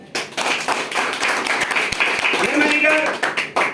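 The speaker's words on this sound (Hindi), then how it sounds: "अपने आप के लिए भाई जोरदार ताली।" An audience at a DXN company gathering claps loudly, a dense, steady run of hand claps close by, with a voice talking over it.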